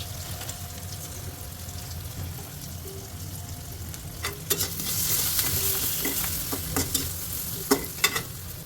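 Spices such as turmeric, garam masala, cumin and panch phoron fry in hot oil for lentil dal, a steady sizzle broken in the second half by repeated sharp scrapes and taps of a spoon stirring against the pan.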